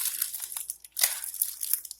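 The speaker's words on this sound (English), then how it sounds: "It's time to open this package." Crinkly plastic packaging rustles and tears in several sharp bursts, close up, with brief pauses between the ripping sounds.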